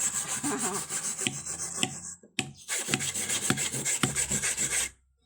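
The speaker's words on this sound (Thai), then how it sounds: "นี่คือค้อนตุ๊บหนังเจ้า" Dull, thudding hammer blows pound dried buffalo hide at a steady pace, about one every half second, over a constant high-pitched background hiss, then stop.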